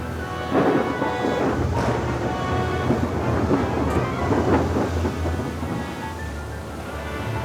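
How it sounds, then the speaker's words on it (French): A heavy rain downpour roars steadily, loud and close, with low rumbles of thunder rolling underneath throughout. "Et puis une grosse averse."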